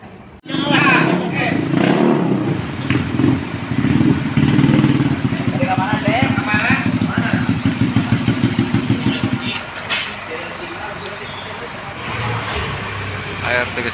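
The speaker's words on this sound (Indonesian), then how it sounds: "Cianjuran biasanya jam segini sudah mulai ya memanaskan mesin untuk berangkat." Buses warming up their engines late at night at Guntur bus terminal in Garut, a loud, steady, close idling rumble that runs nearly throughout, with faint voices in the background.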